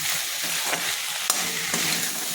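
Khosla seed paste fries lightly in a pan, giving a steady, soft sizzle with occasional stirring scrapes, close by and with no voices.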